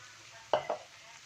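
Water is poured into a hot pan of frying chili, shallot and garlic spice paste for eggplant balado, giving two quick, close, loud sizzling bursts over a quiet background.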